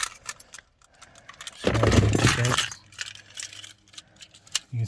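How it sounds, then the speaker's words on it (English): A Volkswagen Golf 1.4 TFSI starts up close by: a short rattle of keys comes first, then a brief crank catches into a loud burst of engine that quickly settles to a steady low idle. "you can see how quickly the car starts"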